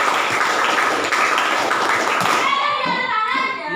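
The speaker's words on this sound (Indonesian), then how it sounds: "1 kali tepuk tangan, 2 kali tepuk tangan, 3 kali tepuk tangan, 1 kali tepuk pramuka" A classroom of students performs a counted clapping routine in an Indonesian school lesson, building through rounds of claps and ending with a scout clap, dense and loud throughout with faint voices mixed in.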